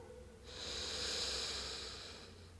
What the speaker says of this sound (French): Première grande respiration. Inspire par le nez.